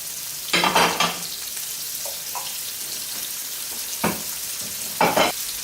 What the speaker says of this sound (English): Add the garlic. And also keep the heat down on low